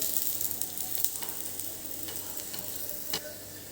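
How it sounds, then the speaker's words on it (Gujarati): Paneer paratha frying in oil on a hot pan, a continuous crackling sizzle with occasional sharp ticks and pops, close and fairly loud, with no talking. "તેલ મૂકીને એને બે બાજુ શેકી લઈશું"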